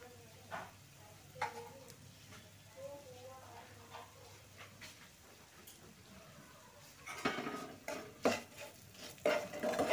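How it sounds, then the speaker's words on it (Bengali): Orange pickle in a pan over low heat, with salt and turmeric added, being stirred by a utensil: gentle scraping and clinks against the pan with a faint sizzle, growing busier and louder toward the end, under quiet talking. "এখন নেড়ে চেড়ে নিচ্ছি।"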